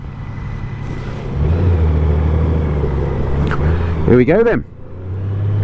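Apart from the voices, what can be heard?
Honda Goldwing motorcycle pulling away and riding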